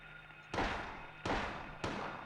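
Three sharp gunshots from a handgun fire in the Silent Hill video game, each a loud, abrupt crack with a short decaying tail, spaced roughly two-thirds of a second apart.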